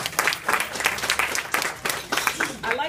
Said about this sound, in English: I think you should applaud yourselves